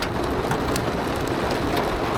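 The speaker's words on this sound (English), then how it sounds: "Now we're getting the big hail." Large hail, about a centimetre across, pelts a lawn during a heavy storm, a dense continuous roar of impacts with scattered sharper hits, loud and close, with no voices.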